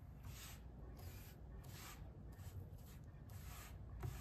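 Polyurethane finish rubbed by hand onto wood, a soft steady scrubbing that swishes back and forth in a quick rhythm at close range, fairly quiet throughout.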